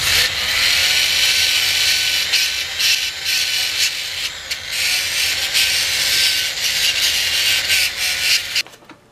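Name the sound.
drill with flap wheel sanding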